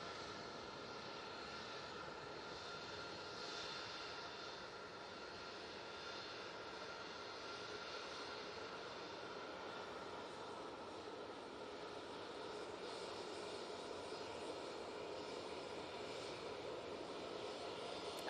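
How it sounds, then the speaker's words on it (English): A steady, faint aircraft engine drone from an Aer Lingus airliner on final approach at Manchester Airport, heard from a distance as a continuous, even roar with no talking. "Aer Lingus is on final."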